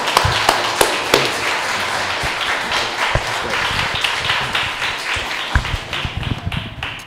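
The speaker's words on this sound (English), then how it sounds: "Let's give him a round of applause." A church audience applauds, with loud close claps at the start settling into a steady wash of clapping that thins out toward the end.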